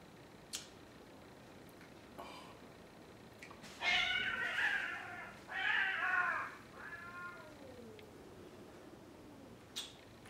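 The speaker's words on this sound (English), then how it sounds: "Cats are outside fighting" Cats fighting outdoors, letting out several drawn-out yowling meows and caterwauls in a couple of loud bursts, with a fainter trailing wail and scattered small clicks around them.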